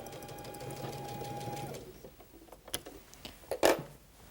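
A sewing machine stitches the last seam of a Dutch Rose, Carpenter's Wheel quilt block, running steadily and close for under two seconds before stopping, followed by a few soft clicks and handling sounds.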